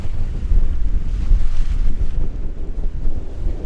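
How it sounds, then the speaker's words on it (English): Strong wind buffets the microphone on a lake beach at Big Bear, a loud continuous low roar rising and falling in gusts with no voices. "Really windy right now though."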